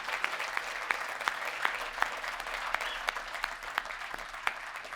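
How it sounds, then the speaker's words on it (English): An audience at a chamber of commerce State of the City event gives a round of applause, steady moderate clapping with a few sharper individual claps standing out, heard from a short distance without speech. "One more round of applause for Mr. Maysdale."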